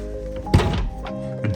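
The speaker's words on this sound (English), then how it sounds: "once you come over here and open up the door" A solid thunk of a Scion FR-S car door opening close by, over a low engine hum with a voice speaking.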